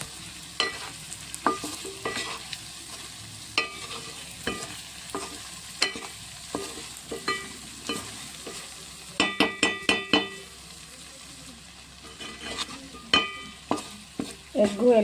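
Egg stir-fried with garlic and chili masala in a pan: a steady low sizzle punctuated by repeated sharp scrapes and clinks of a spatula, quickening into a rapid burst of strokes midway.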